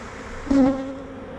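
A honeybee buzzes close by, one short loud pass rising from a low hum at a beehive, then fading back into a faint background drone.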